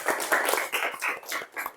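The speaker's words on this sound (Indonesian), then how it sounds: "tepuk tangan buat kalian semua." A school class claps together in a quick, patterned rhythm, bursts of hand claps grouped in short phrases, close and fairly loud with no talk.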